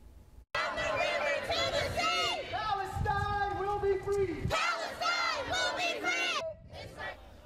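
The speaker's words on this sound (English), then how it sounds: "dozens of people came together to protest the war in Gaza and America's support for Israel" A crowd at a pro-Palestine protest rally in downtown Huntsville chants and shouts in loud, sustained unison, with rising yells and cheering surging in waves and a brief break near the end.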